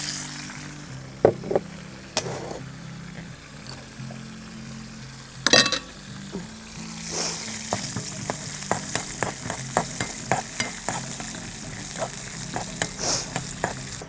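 Cashews frying in ghee in a pan, with a steady close sizzle that grows busier after they drop in, plus a few sharp clinks and stirring taps.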